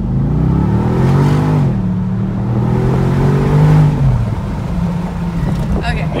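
A 2013 Bentley Continental GT with a twin-turbo V8 revs up loudly and holds a steady drone, then eases off. It is heard close up, with a voice talking faintly underneath.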